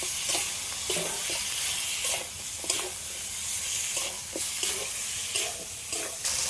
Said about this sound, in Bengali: এর মধ্যে ভেজে রাখা মাছের মাথাটা দিয়ে দেবো তবে একসাথে ভালো করে একটু কষিয়ে দেবো